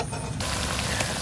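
Sesame balls (bánh cam) to be coated in sugar syrup fry in oil over low heat, giving a steady, close sizzle that runs throughout, with a brief brighter crackle near the end.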